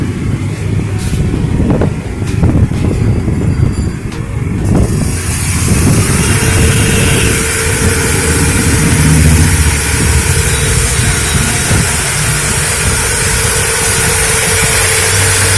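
A 24V 250W hub motor on an electric bicycle runs at full speed, giving a steady, loud mechanical whir with a constant drone that continues unbroken throughout, after a few light clicks at the start.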